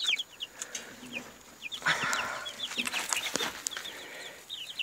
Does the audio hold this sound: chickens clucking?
yes